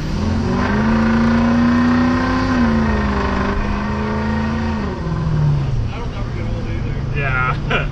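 A 500 hp turbocharged school bus with 30 psi of boost pulls hard, its engine droning loud and steady and climbing in pitch before easing off, while people talk over it.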